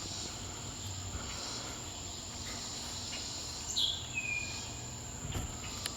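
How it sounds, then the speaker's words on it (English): Robinson cicadas sing in a steady high buzzing drone that runs throughout, faint and distant, with a brief bird chirp partway through. "I'm sure you can hear the Robinson cicadas"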